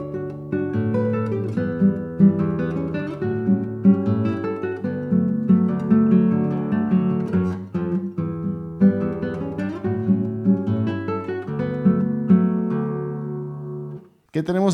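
Solo guitar plays the opening eight-bar phrase of a lively Brazilian choro-style piece, with a steady bass line under ringing melody notes, close and clear, ending abruptly.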